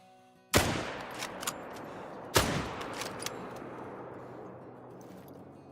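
Two rifle shots ring out in theHunter: Call of the Wild, sharp loud cracks spaced about two seconds apart, each trailing off into a long echoing tail over quiet outdoor ambience.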